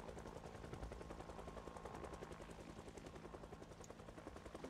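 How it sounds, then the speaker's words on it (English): A helicopter in the survival game Project Zomboid thrums overhead with a rapid, continuous rotor chop, steady and loud throughout with no speech. "Well, this helicopter is going to fuck me over."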